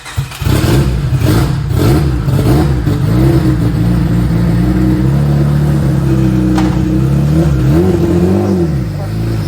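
A loud nearby engine, previously blown, runs and revs, its mechanical rattle and clatter of gears churning beneath a rising and falling roar.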